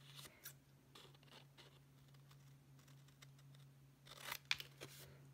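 Scissors snip paper along score lines while building a craft pocket page, quiet crisp cuts scattered through the clip with a louder burst of snipping near the end, no talk.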